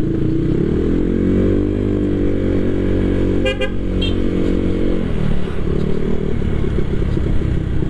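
A bored-up Honda PCX 160 scooter engine runs loud and close, its pitch climbing and falling as the throttle is opened, with a brief clatter midway.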